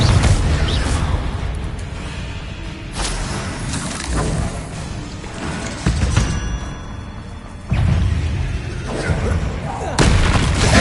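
Repeated fiery blasting-spell explosions in a Hogwarts Legacy fight against spiders: loud booming bursts every few seconds over a dense roar of combat effects.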